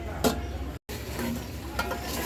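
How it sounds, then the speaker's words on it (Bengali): Meat being stirred with spices in a pot: quiet scraping and stirring scuffs with a soft sizzle underneath and a brief gap partway through. "ভালো করে মশলার সাথে মাংসটার সাথে মশলাটা ভালো করে মিক্সড করে"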